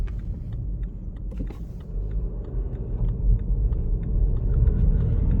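A BMW 116d with a 1.5 litre diesel engine cruises at around 30 mph, producing a steady low road rumble and tyre roar that grows slightly louder over time, with faint ticks and clicks from the cabin and no speech.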